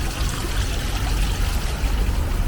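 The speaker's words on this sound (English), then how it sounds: "all you hear is the sound of the bubbling," Bubbling running water fills a garden in Chiang Mai beside a highway, a steady close wash of trickling and splashing with no voices.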